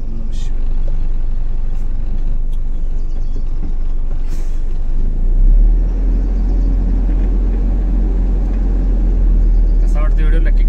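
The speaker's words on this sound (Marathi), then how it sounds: "तोपर्यंत आपण गाडी वळूया." A car is turned around, its engine giving a low steady rumble that grows heavier midway, with a brief hiss and knocks as a voice talks over it.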